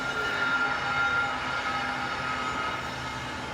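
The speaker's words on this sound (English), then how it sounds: "Oh no, it's a CSX coal train." CSX coal train passing near Harpers Ferry, West Virginia: a steady, loud rumbling roar of rolling wagons with faint tonal squeal, continuous throughout and without speech.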